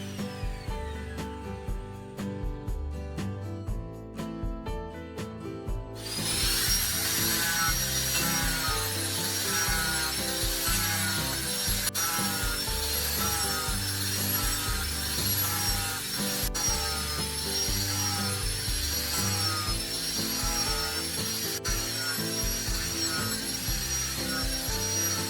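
An axe edge being sharpened and polished on a power grinder, a quiet mechanical hum that jumps into a loud, continuous abrasive whir, steady and close for the rest of the clip.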